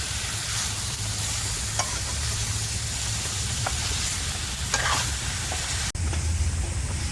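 Wild leafy greens and bangda (mackerel) sizzle steadily in a hot pan while a utensil scrapes and stirs them every few seconds, ending with a sharp clink.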